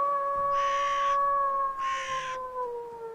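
Two drawn-out cat meows used as a sound effect, each about half a second long and evenly spaced, with a steady tonal hum running beneath them.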